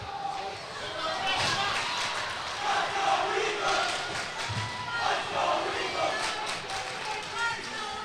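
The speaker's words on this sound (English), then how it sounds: "Peters crowd getting into it now, trying to pump on Peters." Crowd at a varsity hockey game between SEA and Peters cheering and shouting steadily throughout, a sustained roar of voices with some rising swells, under a commentator's talk.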